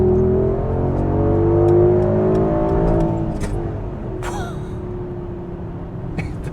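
A 2021 Mercedes-AMG GLS 63 V8 pulls hard under acceleration, its engine note rising through the revs and then easing off as it cruises, heard from inside the car with no talking.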